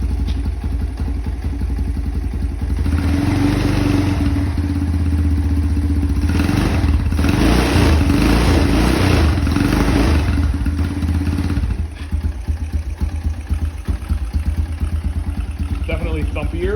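Predator clone small engine with a gutted exhaust starts and runs on choke, a loud thumpy chugging burst mid-clip that settles to a rough idle, with voices speaking over it.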